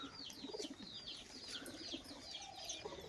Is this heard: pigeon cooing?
yes